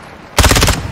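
A rapid automatic weapon burst in Modern Warfare 3, about half a second of loud, close, evenly spaced shots cutting in abruptly from near silence, followed by a fading tail.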